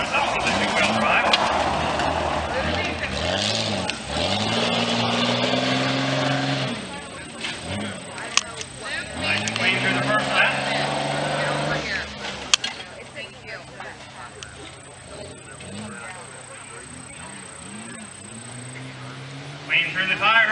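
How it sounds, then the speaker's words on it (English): A two-wheel-drive Jeep Cherokee racing, its engine revving up and down in rising pitch sweeps several times, loud and close, with a commentator talking over it throughout. "Zach has a four-wheel drive Cherokee that it normally runs. This is a two-wheel drive."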